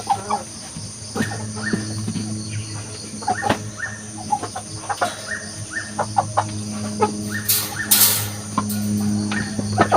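A Belgian Aseel pullet clucking up close in a farmyard, with repeated short clucks over a steady background hum and a brief noisy burst partway through.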